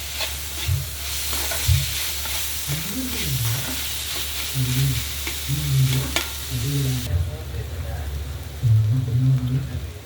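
Boiled potato filling for pani puri is stirred and mashed in a pan, giving soft repeated squelching scrapes over a constant sizzling background hiss, with a person talking throughout.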